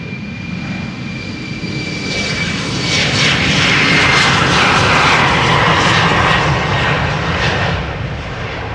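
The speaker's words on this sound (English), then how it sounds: "Next up, an Embraer 190 outbound to London City." A KLM Embraer E190, PH-EZG, rolls on takeoff at Amsterdam Schiphol in a run later aborted, its jet engines a loud, steady roar that swells through the middle and eases slightly at the end.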